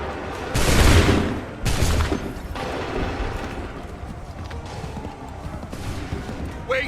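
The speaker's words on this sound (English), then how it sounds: "Open fire." A volley of musket gunfire in Assassin's Creed III Remastered, two loud broadband bursts close together near the start followed by a sustained lower rumble of battle noise and scattered shots.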